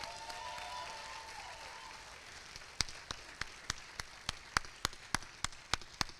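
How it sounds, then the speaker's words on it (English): At an awards ceremony for a 48-hour retro horror film project in Pittsburgh, an audience breaks into applause. Sharp individual claps ring out at a steady rhythm, close to the microphone, over a softer spread of crowd noise. "Please give them one more big round of applause."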